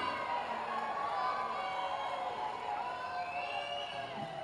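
A crowd at a political rally cheering and clapping, a dense steady roar of many voices and hands throughout, with no single voice standing out.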